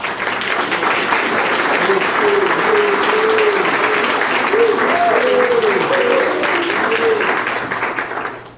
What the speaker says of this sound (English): I would love to give a round of applause